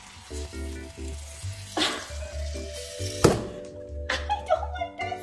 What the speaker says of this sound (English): I don't like the bubbling either.